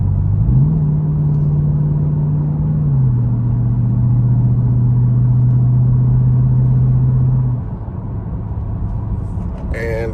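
A Dodge Durango R/T with its rear muffler deleted, driven in normal mode while accelerating. A loud, close engine drone climbs briefly, then holds a steady tone for several seconds before dropping off near the end.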